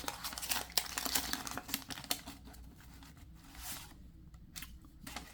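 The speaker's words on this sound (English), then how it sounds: "So let me just start ripping." 1990 Topps The Simpsons wax card packs being ripped open, with continuous crinkling and tearing of the wax wrapper up close, steady rustling that thins out toward the end, no talking.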